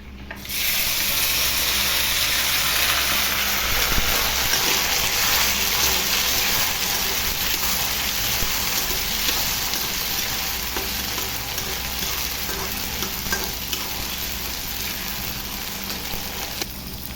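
Kasarakaya (small bitter gourds) dropped into hot oil with a tempering of mustard seeds, dried red chillies and curry leaves, frying with a steady loud sizzle throughout, no talking.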